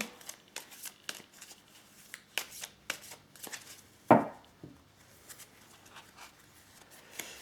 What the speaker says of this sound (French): je vais tirer encore 4 cartes